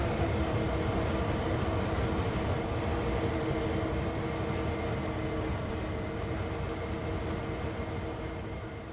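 A locomotive in Train Sim World 2 on the Cane Creek potash line rumbles along with a steady low engine drone and humming tones, continuous and fairly close, with no talk.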